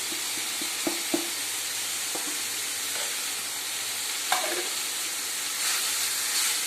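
Chicken keema mixed with Kashmiri chilli powder, chopped chillies and spices frying in a pan, a soft continuous sizzle with a few light utensil taps and a clink, no voices.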